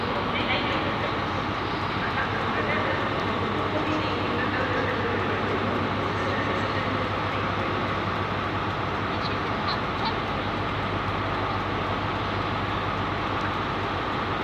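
At London King's Cross, an LNER train led by locomotive 43307 on an Aberdeen service idles with a loud, steady diesel drone filling the station, and people talk faintly over it.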